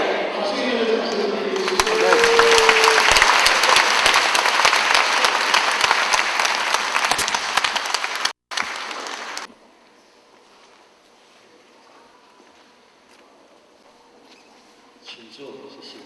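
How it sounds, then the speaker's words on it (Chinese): Church congregation applauding at a joint Christmas thanksgiving service, a loud dense wash of clapping lasting about eight seconds that breaks off abruptly and gives way to quiet room tone with faint murmuring. "谢谢掌声。"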